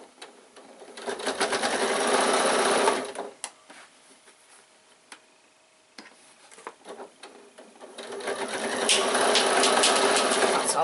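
Sewing machine stitching over the handles of a baby bag, running in two long steady bursts with a quieter gap of small handling clicks between them, close and loud.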